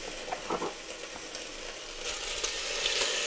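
Large pieces of pork shoulder sear in a hot pan, giving a steady sizzling hiss with brief crackles and spatters that swell louder toward the end, without voices.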